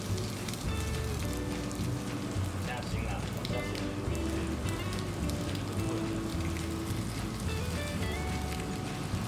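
Egg-coated chicken cutlet fries in a pan over low heat, giving a steady close crackling sizzle that runs throughout, with background music and a voice heard under it.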